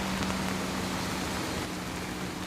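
Steady rain falls on a rainy day, a continuous even hiss of drops close by with a faint low hum underneath, no voices.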